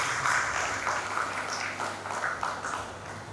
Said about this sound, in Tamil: இவர்களை நாம் அனைவரும் மனதார கைத்தட்டி வாழ்த்துக் கொள்கிறோம்.